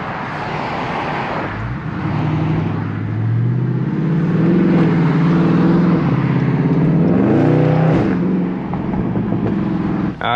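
A Dodge Charger 392 Scat Pack backing up, its engine rumbling loud and close with a rising rev midway and a steady low throb, no voices.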